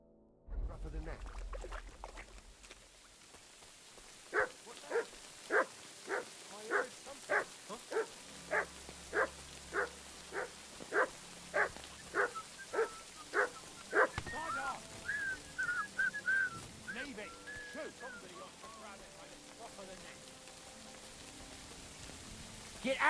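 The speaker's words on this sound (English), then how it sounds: "No one wants to hear you barking." In Kingdom Come Deliverance 2, a dog barks about fifteen times in a steady, evenly spaced series over a soft rainy outdoor ambience, then the barking stops and the quiet background carries on.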